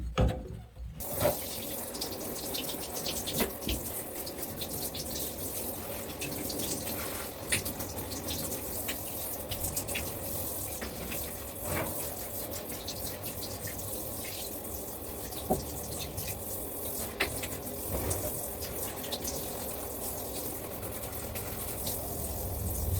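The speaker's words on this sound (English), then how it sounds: "this one is dry, so I'm going to go give this a thorough shower" Shower water pours steadily over a dry houseplant indoors, a continuous broadband hiss and splash running alone with a few brief knocks and clunks throughout.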